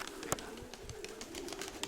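Pigeons cooing near a breeder's loft of branded pigeons, soft low repeated coos over a faint background with a few brief sharper knocks and flutters.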